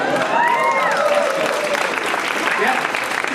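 A comedy club audience at the DC Improv applauds and cheers, a dense, loud, steady wash of clapping mixed with crowd voices and whoops, filling the room throughout.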